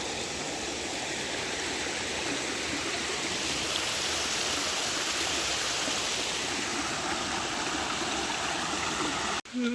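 A creek in Tennessee rushes and gurgles over rocks on a hiking trail. A steady, close wash of flowing water fills the whole stretch and breaks off abruptly just before the end.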